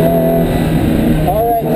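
A car engine pulls hard on a cone-marked driving course, a loud steady drone that climbs in pitch as it accelerates, with an instructor's voice speaking over it.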